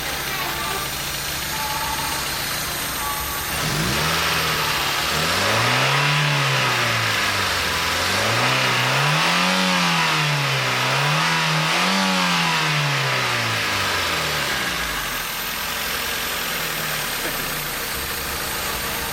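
A car engine suspected of a warped cylinder head revs up and down in rising and falling sweeps from a steady idle, loud and close, with faint voices around it.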